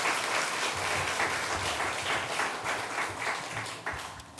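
In a Korean Presbyterian church during an afternoon worship service, the congregation claps to welcome a new catechumen with even, moderately loud applause that carries steadily throughout.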